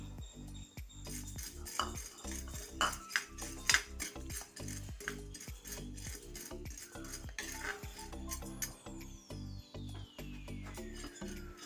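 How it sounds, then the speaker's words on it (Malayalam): Roasted gram is stirred dry in a pan, a metal spoon scraping and clinking against the pan in a busy, uneven rhythm, close and fairly quiet. "ഇനി ഇതിലേക്ക് തന്നെ ഒരു 1/2 കപ്പ് പൊട്ടുകടല അതുകൂടെ നമുക്ക് ചെറുതായിട്ടൊന്ന് മൂപ്പിച്ചെടുക്കാം"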